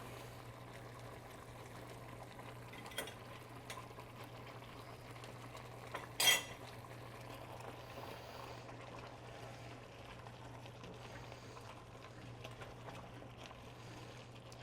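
Onions cooking down in a pot for tomato basil soup give a steady, quiet bubbling simmer with a faint low hum underneath and one brief louder clatter midway, no talking.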